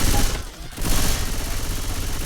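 Rapid gunfire from Left 4 Dead 2 in a competitive Zonemod match, a loud dense burst of shots that briefly dips then resumes as continuous fire.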